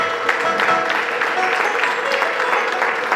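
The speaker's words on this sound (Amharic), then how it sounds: "እልል በሉ፣ አጨብጭቡለት ስለሚገባ" A congregation applauding during a church service, a steady dense wash of clapping that continues at an even level throughout, with a faint voice mixed underneath.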